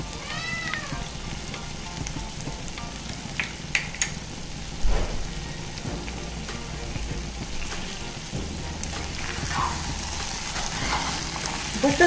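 Butter sizzling in a pan of chicken cooking over low heat, a steady close crackle and hiss running throughout, with a few louder spatters.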